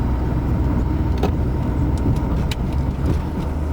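A 1977 Mercedes 450SLC drives over a speed hump, its engine and road noise a steady loud rumble with a couple of faint thumps as the car crosses the bump.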